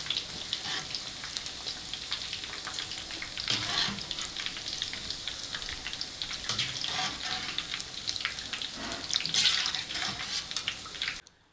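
Fish fries in hot oil, a continuous crackling sizzle close up with occasional louder bursts and spattering, fading out abruptly at the end.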